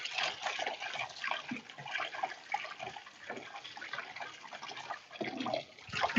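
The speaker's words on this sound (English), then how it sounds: "I'm going to dump the boiled noodles into the strainer. And you have to wash the noodles." Running water splashes over boiled craft noodles in a strainer as they are rinsed, a steady close hiss and patter of tap water that swells and dips for a few seconds with no talking.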